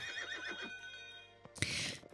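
A horse in Horse Haven World Adventures whinnies in a quick wavering neigh over soft game music, followed by a sudden loud burst of noise near the end.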